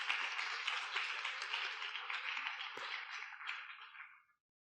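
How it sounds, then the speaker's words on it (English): An audience at a panel session applauds, giving a dense, even wash of clapping that holds steady and then tapers off to silence near the end, moderately distant. "Can we have a round of applause,"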